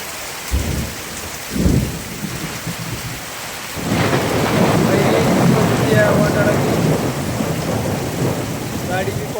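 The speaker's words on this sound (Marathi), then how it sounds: "भयान पाऊस आहे" Two deep rumbles of thunder roll first, then a heavy downpour surges in and pours steadily, loud and close.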